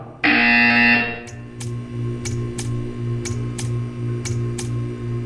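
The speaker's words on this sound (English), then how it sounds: "You will hear a buzzer" A loud electronic buzzer in the game Portal 2 blares for about a second, then a steady ticking clicks rhythmically over a low humming drone.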